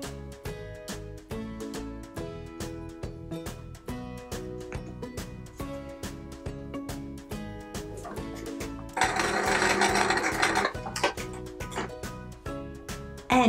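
A sewing machine stitches quilt squares together for a Peter Rabbit patchwork quilt, running in a fast steady rhythm of close mechanical ticks, with a brief louder burst of whirring partway through.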